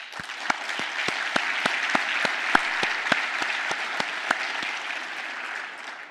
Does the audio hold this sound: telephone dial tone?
no